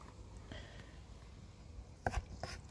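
A knife slices peeled garden tomatoes into pieces, with a few soft, quiet cuts near the end.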